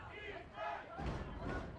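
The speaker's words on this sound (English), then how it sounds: "Crowd's pumped up here." Spectators at an ultimate frisbee game cheer and shout in a steady, moderately distant crowd roar that swells twice.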